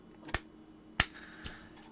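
Three sharp, sparse hand claps in a slow, deliberate rhythm, spaced roughly half a second apart, close and fairly quiet against a faint room background.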